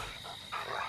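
Dogs being herded in a group like a flock of goats bark in two short bursts at moderate distance, the second burst louder and longer, with faint background hiss and no talk over them.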